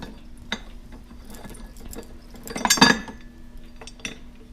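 Metal cranks being unscrewed from a fresh noodle machine: scattered light clinks and ratcheting clicks, with a louder cluster of metallic rattling near the middle, close and alone.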